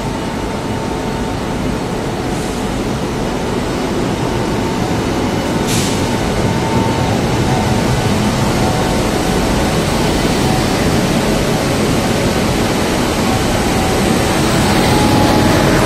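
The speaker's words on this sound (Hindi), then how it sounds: "इस ट्रेन ने अब डिपार्चर ले लिया लुधियाना जंक्शन से" WAP-7 electric locomotive from Gomoh shed hauling the Katra–Varanasi festival special out of Ludhiana Junction, a steady loud broadband rumble of rolling wagons with a faint high tone and occasional brief squeals, continuous throughout.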